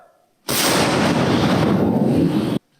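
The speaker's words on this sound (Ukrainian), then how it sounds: "Гармата до бою! Постріл!" A single loud, booming artillery gun blast erupts after a quiet moment, roaring for about two seconds before cutting off abruptly.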